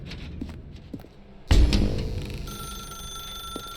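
A telephone starts ringing in the game The Stanley Parable after a quiet stretch, its bell tone sustained and fairly close, with a sharp onset and steady ring continuing to the end.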